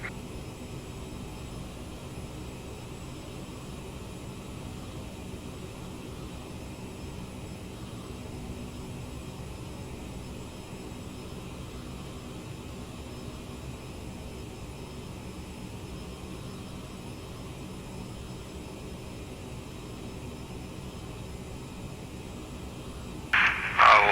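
Steady, even roar of a CRJ 900's jet engines after the throttle is eased back, a continuous broadband drone filling the cabin with no real change, ending in a couple of brief louder knocks.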